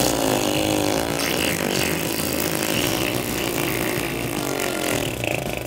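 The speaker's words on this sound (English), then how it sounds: "That last part just turned into a lawnmower." Droning, buzzing engine-like game sound resembling a lawnmower in Hand of Fate, steady and loud throughout with a dense wash of noise and no clear talk over it.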